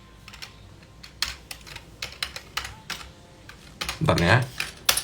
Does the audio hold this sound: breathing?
no